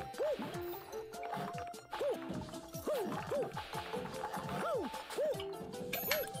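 Bubbly, gurgling game sounds from a Super Mario 3D Land level filled with strange bubbles, with repeated rising pops and watery blips in a steady rhythm over layered level music, continuing throughout without speech.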